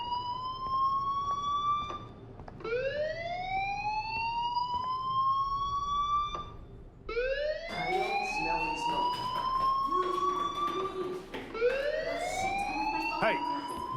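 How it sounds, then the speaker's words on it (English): Fire alarm in the Life is Strange video game, a rising electronic wail repeating in sweeping cycles, several overlapping, steady and fairly loud, with occasional clicks and no speech. "Hey, do you hear that fire alarm? That means you should be outside."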